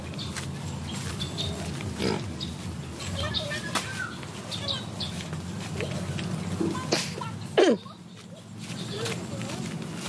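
A large pig grunts nearby during a rural banana harvest, with a few short, gruff grunts scattered over rustling outdoor noise, one louder snort near the end, and voices talking in the background.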